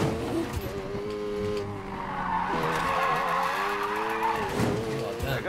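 A car drifts in the Need for Speed Payback video game, tires squealing in long, wavering screeches over a steady engine roar, with voices talking underneath.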